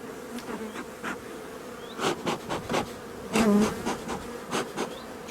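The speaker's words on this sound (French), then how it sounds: "Si j'enlève la grille à propolis, il y a les abeilles en dessous." Honeybees buzz close by at an open hive in a busy, wavering drone, with individual bees zipping past in short, louder bursts.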